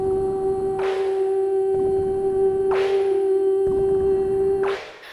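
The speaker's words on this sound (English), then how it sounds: "Bouncing the time knob on the reverb." A sustained tone runs through a MOOD MKII reverb pedal with its time knob bounced, making rhythmic swelling washes roughly every two seconds. The swells sound like a kick, snare, kick pattern, and the effect plays alone.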